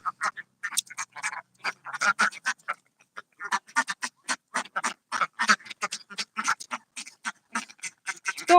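Ducks on a Bengali duck farm quack in dense, overlapping bursts, a loud flock chattering nearly nonstop with one short lull before the calls resume.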